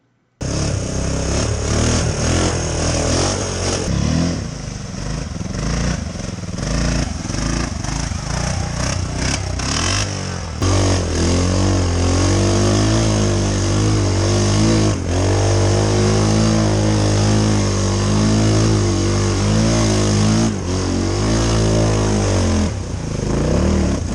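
A 30-year-old straight-axle Honda Fourtrax ATV engine runs continuously while riding, a loud close droning motor whose pitch rises and falls as the throttle changes, with no speech.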